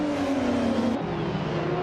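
A 1991 Bugatti EB 110 race car in a video game, starting a race at Albi, gives a steady loud engine drone that drops pitch halfway as it shifts gear, close and continuous.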